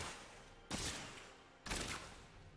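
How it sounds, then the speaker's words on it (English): A Demon Hunter in Diablo 3 firing Elemental Arrow skulls, two sharp whooshing blasts about a second apart over a steady game-sound bed, with no talking. "I'm firing a skull every time I fire."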